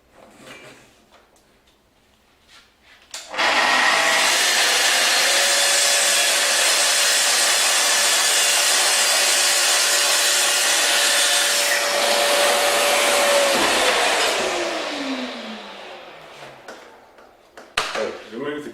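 A Festool TS55 REBQ plunge track saw cuts through wood along a guide rail, spinning up sharply into a loud, steady whining roar that holds for about ten seconds, then winds down with a falling pitch.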